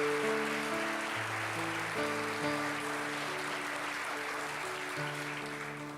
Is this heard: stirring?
no